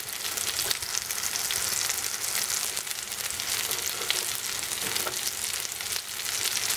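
Lentil and walnut burger patties frying in a little oil, a steady close sizzle and crackle throughout with no voices.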